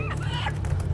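Hens call out briefly nearby at a market sale, a couple of short honking clucks over a low background rumble.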